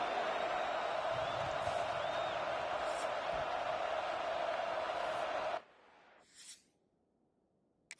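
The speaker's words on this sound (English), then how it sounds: "This crowd bringing an ear-splitting welcome to their visitors." Stadium crowd noise in EA Sports College Football, a loud steady roar of cheering that holds for about five and a half seconds, then drops away abruptly to near silence with a brief faint swell afterward.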